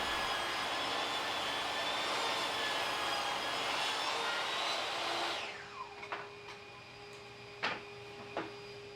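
Table saw ripping a 1x4 board, a loud sustained whine and roar of blade cutting wood for several seconds, then spinning down with a falling pitch and a couple of knocks, no voices.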